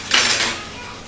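A metal spoon clinks once against a dish, a bright close ring that fades over about a second, with no voices.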